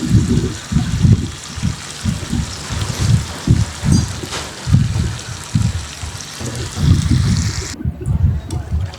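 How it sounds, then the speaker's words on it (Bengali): Water poured into a pan of chicken curry while it cooks, producing a close, rhythmic gurgling and bubbling splash with low pulsing bursts, no talking. "তো এখানে আমি জল দিয়ে দিব এখন।"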